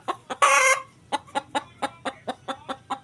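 Hungry hen that ate her own egg, clucking close by: one loud squawk at the start followed by a regular series of short, evenly spaced clucks, alone without talk.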